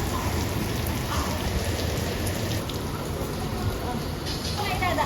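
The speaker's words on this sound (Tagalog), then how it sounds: "Lakas ng ulan." Heavy rain pours steadily in Zambales, Philippines, a dense continuous hiss of drops on surfaces filling the whole stretch, close and loud, with voices faintly present beneath it.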